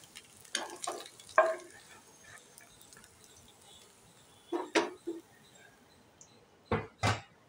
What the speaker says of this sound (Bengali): আগে এক খেপ তুলে নিয়েছি, ভাজতে দিয়েছিলাম, আবার এগুলো ভেজে নিচ্ছি।